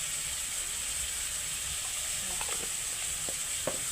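A spice paste of ginger, garlic, bay leaf and green chilli fries with Kashmiri chilli for a prawn dish, giving a steady close hiss of sizzling with a few soft stirring knocks near the end.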